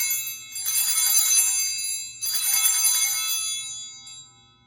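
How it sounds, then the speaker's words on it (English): Small altar bells ring out during Mass as the host is lifted, in bright shimmering bursts, two clear peals each fading into a sustained metallic ring. "you ring the bells 3 times."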